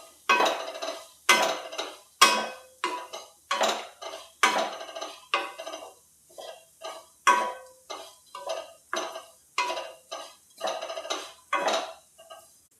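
Grated green coconut roasts in a pan over a low flame while a spatula scrapes and clanks against the metal in a steady, evenly spaced rhythm of close, distinct strokes, with no talking.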